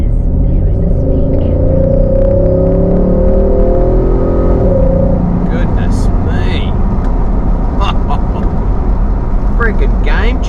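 Nissan Y62 Patrol fitted with a Torqit cat-back exhaust and a throttle controller in sport mode, pulling away and accelerating; a steady, loud engine drone with rising tones carries on throughout, overlaid by talk from people inside.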